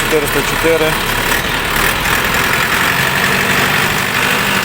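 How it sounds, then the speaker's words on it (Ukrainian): A Shifeng SF404 tractor, a 40-horsepower four-cylinder, idles loudly and steadily with a rough, chugging rumble while someone talks over it. "Тракторець на 40 кінських сил, 4-циліндровий"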